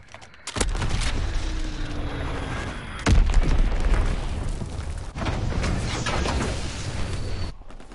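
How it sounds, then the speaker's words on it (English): Enemy bomb blast in a Call of Duty match, a heavy boom at the start followed by a second loud impact about midway, with rumbling debris and game noise carrying on through the rest. "Enemy bomb incoming."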